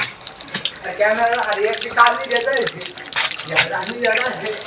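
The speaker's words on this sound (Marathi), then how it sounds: "इथं मी नळ चालू करवलो पाणी कस का नाही भरलं" Water running from a tap, a splashing gushing stream with a person talking over it throughout.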